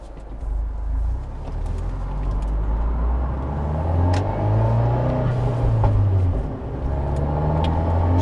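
Steady low rumble of a tuned Fiat 124 Spider engine during a third-gear pull, the pitch rising and falling, heard from inside with windows closed and road noise.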